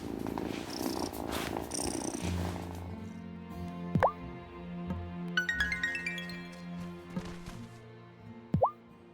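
A cat in the video game Wylde Flowers purrs in a steady, low rumble, with light game music tones and a couple of soft plopping effects over it.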